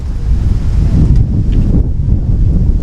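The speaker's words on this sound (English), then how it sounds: "It's the wind gusting up here once again." Wind gusting into the microphone at an outdoor wood-bat baseball tournament game in Pocatello, a steady loud low rumble filling the whole stretch with no talk over it.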